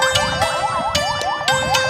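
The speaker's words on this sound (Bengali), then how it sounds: "অ্যাম্বুলেন্স ওইটা" An ambulance siren on a city street wails loudly and nearby in a fast repeating warble that rises and falls several times.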